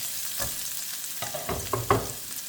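Eggplant pieces frying in leftover oil in a pan, with a steady soft sizzle and a few brief stirring clatters and scrapes near the end.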